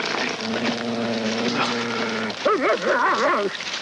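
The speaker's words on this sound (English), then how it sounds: "That's a dog." A dog in a 1972 film whimpers with a long, thin whine, then breaks into wavering yips over a steady hiss of background noise.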